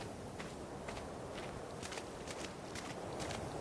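Footsteps of a character in the video game ARK, in the Madagascar Evolved mod, sounding as faint, evenly spaced steps under a steady broadband game ambience, with no talking.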